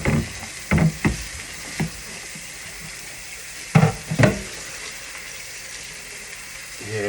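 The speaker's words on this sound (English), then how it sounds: "Sitting here washing dishes," Dishes being washed at a running kitchen sink, a steady tap stream with a few sharp clinks and clatters of crockery, close by and without talk.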